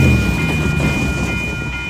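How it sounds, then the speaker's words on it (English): Amtrak Capitol Corridor train 527 passing close by at 98th Avenue in Oakland on a rainy day, a loud steady roar of rolling cars with a sustained high whine, fading slightly. "This is Amtrak 527, Capital Quarter train on its way to San Jose Pier."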